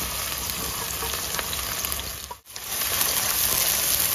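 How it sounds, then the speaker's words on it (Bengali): Chopped onions frying in pure mustard oil, a loud, dense, continuous sizzle that dips briefly near the middle before resuming at full strength, with no voices. "পেঁয়াজগুলোকে ভালো করে ভাজবে।"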